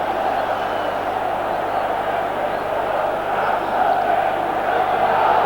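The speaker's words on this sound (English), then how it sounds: "that certainly produced some ironic cheering from the Italian fans who know all about Sanchez" Italian football fans in a stadium at a 1988–89 European Cup match between Milan and Real Madrid, raising a broad, sustained crowd roar of ironic cheering that swells slightly near the end, heard from a distance.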